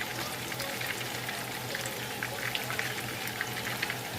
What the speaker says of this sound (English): test it by throwing something in there and see if it sizzles